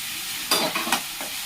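A few quick scraping stirs of diced capsicum, green chilli and onion frying in a pan, for chilli parotta, over a faint sizzle, close by with no talking.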